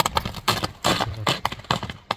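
A seven-year-old horse, about 1.57 m tall, clip-clops on hard ground, its hooves striking in a quick, close and distinct rhythm with almost no talk.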